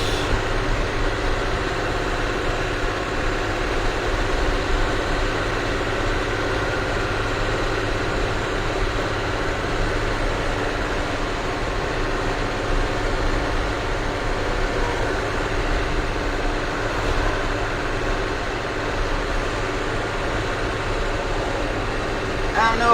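A rollback tow truck cruises at about 50 mph, its engine and road noise making a steady, unbroken drone inside the cab for the whole stretch.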